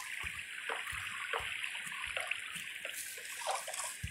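Flowing water in Minecraft, moving slowly across blocks in a cactus bonemeal farm build, makes a steady, close trickling wash broken by soft recurring clicks, with no voices.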